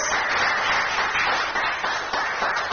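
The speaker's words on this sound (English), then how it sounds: "Please give yourselves a round of applause, level 1." Audience applause at a youth political groundbreaking event, dense, steady clapping from many hands, loud and continuous throughout.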